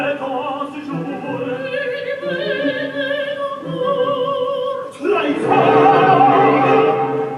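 A soprano sings the close of an opera's second act, her line over orchestra swelling into a fuller, louder final chord.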